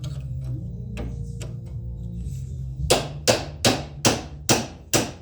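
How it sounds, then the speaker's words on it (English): A hammer strikes a metal punch against the lower door panel of a 1951 Ford sedan, first a few light taps, then six loud, evenly spaced blows close by with no talking. "Go grab that punch and that hammer"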